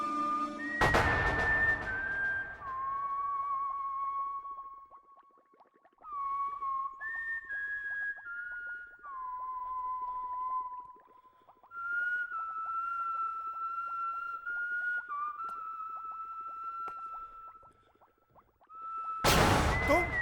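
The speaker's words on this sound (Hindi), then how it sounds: "तुम ये सीटी क्यों बजा रहे हो?" A person whistles a slow tune of held, gliding notes, alone and fairly clear, with pauses between phrases and a loud noisy burst at the start and end.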